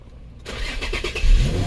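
A 2007 Infiniti G35 engine cranks and catches after a brief silence, then settles into a steady, close idle with a slight rev.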